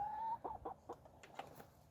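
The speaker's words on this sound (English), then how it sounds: "I have 5 chickens." Soft, scattered hen clucks and short calls, a few spaced vocalizations close by with light background noise.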